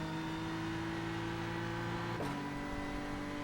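A steady synthetic racing car engine drone from iRacing on the Nordschleife hums at constant pitch, then drops sharply into a lower tone like a gear shift.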